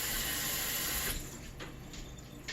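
Blueberries are rinsed in a strainer over a bowl under a running sink tap, a steady close hiss of water that cuts to a quieter trickle partway through.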